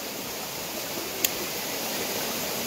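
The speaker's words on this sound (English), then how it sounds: "This is a waterfall in between waterfalls." Steady, broadband rush of a waterfall, heard from close by in a rocky spot between falls reached by fixed rappel ropes; the roar stays constant and fills the clip, with one brief sharp click near the middle and no talk.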